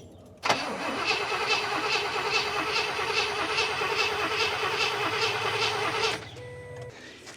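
An abandoned 1972 Cadillac engine cranks loudly and rhythmically for about six seconds, its starter churning in steady pulses, then cuts off abruptly, leaving quiet background noise.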